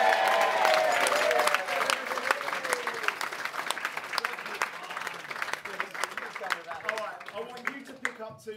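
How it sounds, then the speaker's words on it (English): At a wedding magic show, an audience applauds a volunteer coming up, the clapping strong at first and then tapering off, with scattered voices and a speaking voice over it. "Give him a round of applause."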